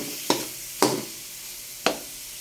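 Tomatoes are stirred into sautéed garlic and onion in a frying pan, giving three distinct scraping strokes of a spatula, close and crisp, spaced irregularly over a soft steady sizzle.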